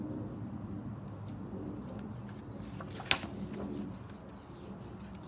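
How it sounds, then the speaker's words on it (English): Birds chirp outdoors, faint and somewhat distant, with a few scattered short calls over a low steady background hum. "The birds are very noisy today."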